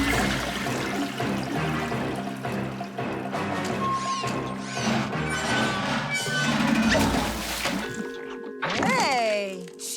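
A cartoon toilet flush in a slime-factory adventure for kids roars and gurgles with swirling water and clanking effects under music, ending in a whistling, slide-like swirl as voices chatter briefly.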